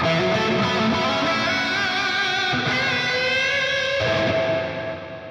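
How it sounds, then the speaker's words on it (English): An electric guitar plays through a Dunable Eidolon signature delay, reverb and boost pedal with the reverb at maximum, sustained chords ringing with a wide wash before decaying into a fading tail. "if we turn the reverb even all the way up and turn it on, it's still not a crazy amount of reverb"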